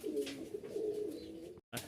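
A Swachandan pigeon pair coos softly and steadily nearby, a low warbling call that breaks off briefly before resuming.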